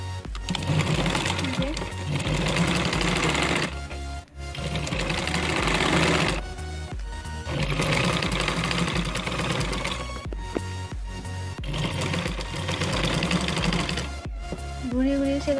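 A sewing machine stitches a garment neckline in loud, close runs of rapid mechanical whirring, broken by short pauses between runs.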